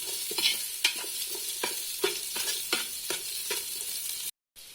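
Onions sizzle and fry in a hot pan while being stirred for a Tulunadu kenda adde dish, with repeated scraping stir strokes over a steady close sizzle, then a brief cut to silence near the end.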